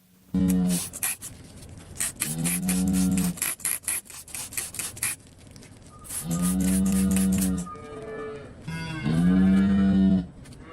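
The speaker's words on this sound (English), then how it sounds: "that is this cow making that noise in the background" A cow moos loudly several times, long drawn-out calls close by, separated by brief scraping and rubbing noises during hoof trimming and cleaning.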